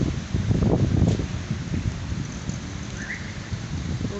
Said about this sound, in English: the heavy rain today in Wagan